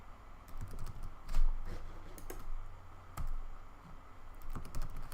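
Keys clatter on a computer keyboard as a password is typed, a close, irregular run of soft clicks and taps with brief pauses, without speech.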